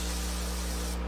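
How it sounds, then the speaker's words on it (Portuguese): Silicone spray from a can sprayed onto a flannel cloth for cleaning an accordion: a steady, close, loud hiss that runs almost the whole time and cuts off just before the end. "Você vai pegar o silicone spray, dá aquela agitada"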